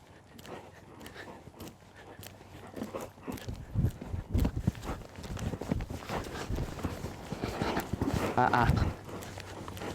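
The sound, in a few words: horse walking, hooves clip-clopping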